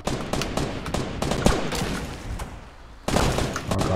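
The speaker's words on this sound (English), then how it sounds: "Oh, I shot him." Rapid bursts of gunfire in the Fortnite battle royale video game, a dense string of sharp shots that drops briefly and then resumes loudly for the last second, with no talking.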